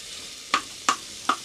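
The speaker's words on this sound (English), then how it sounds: "Oh yeah, it's just sizzling." Hamburger meat frying in a pan on a low burner in the back of a van, a steady soft sizzle broken by three sharp scraping strokes as the meat is chopped and stirred, evenly spaced and close.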